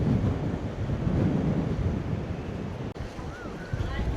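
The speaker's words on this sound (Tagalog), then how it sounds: "It's very cold, windy, and freezing." Steady wind roars across the microphone on an open shore at La Perouse, Sydney, on a cold day, with a broad rushing noise and faint surf beneath it.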